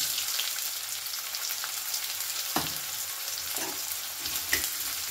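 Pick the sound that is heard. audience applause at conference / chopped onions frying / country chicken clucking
chopped onions frying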